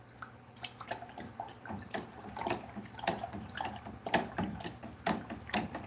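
Bokashi liquid being stirred in a bucket, quiet close sloshing and dripping splashes in irregular bursts, with no voices.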